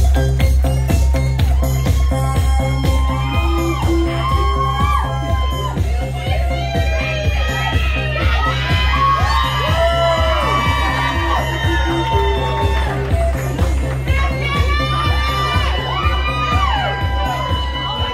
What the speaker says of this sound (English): I want to give a big, big, big round of applause. Let's put our hands together for Graciela Ross.